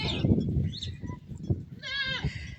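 Samburu goats on the overgrazed Opiroi hills bleat several times at close range over a couple of seconds, their wavering cries overlapping with livestock shuffling and background noise.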